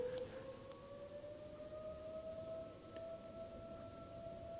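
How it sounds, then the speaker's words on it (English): A faint, distant fire truck siren holds a steady, slowly rising tone over a background rumble, with no one speaking. "Fire truck."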